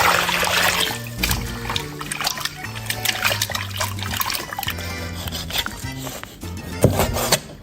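Squid is washed under a running tap, with water splashing and trickling continuously and close by while hands scrub and rub the flesh, and a louder splash comes near the end.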